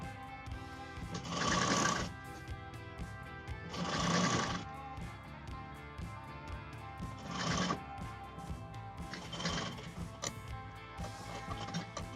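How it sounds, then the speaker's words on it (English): A sewing machine stitches a strip onto long gown fabric in several separate bursts of rapid mechanical whirring, with short pauses between runs and quieter handling sounds in between; no voices. "While stitching the strip, we slightly pull the strip and loosen up the gown fabric a bit."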